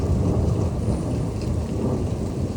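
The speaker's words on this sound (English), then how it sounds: "As you can hear, that thunder is kind of distant now." Steady heavy rain falls during a thunderstorm in Troy, Illinois, with a low, continuous rumble of distant thunder rolling underneath the hiss throughout.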